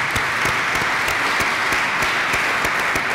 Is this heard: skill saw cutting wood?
no